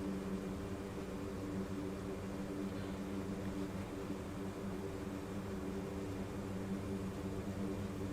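A C-130 turboprop aircraft taxiing, its propeller engines producing a steady, loud droning hum with layered tonal whine, continuous and unchanging throughout with no talk.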